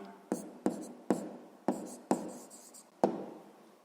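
Pen or chalk writing out a math answer in six strokes, each a sharp scratchy onset fading out, spaced irregularly, close and alone.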